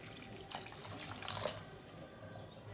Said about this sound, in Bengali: আমি এখানে জল দিয়ে দিলাম।